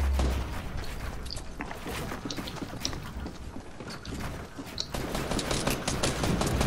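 Gunfire in a multiplayer shooter video game, dense rapid bursts and scattered shots crackling continuously with mechanical clicks, loud and busy throughout.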